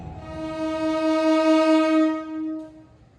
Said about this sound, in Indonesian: kereta api Kamandaka dari stasiun Semarang Tawang, tujuan akhir stasiun Purwokerto, diberangkatkan dari stasiun Semarang Tawang